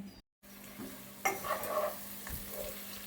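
Sambar simmers in a pot with a soft, steady bubbling and light sizzle, faint and close, after a brief moment of silence, with a few small clinks of a utensil.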